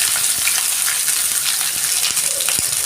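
Chopped onions fry in hot oil with curry leaves in a pan, giving a steady even sizzle with a few faint clicks of stirring and no talking.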